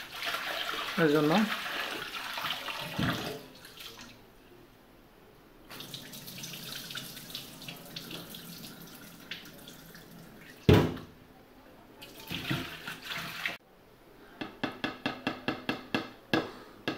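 Loitta (Bombay duck) fish being rinsed under running water, a tap flowing steadily at first, then quieter splashing and handling with brief knocks and a short burst of rapid clatter near the end, with a voice speaking briefly.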